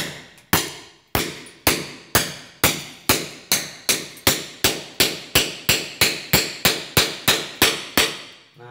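Hammer blows strike a chisel to pry loose ceramic tile, about eighteen sharp, ringing metallic impacts in a steady, evenly spaced rhythm, each clack decaying quickly, loud and close with no talk.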